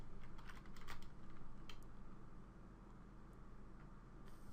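Quick clicking keystrokes on a computer keyboard as a command is typed, dense in the first half, then sparse taps and a final key press over a steady room hum.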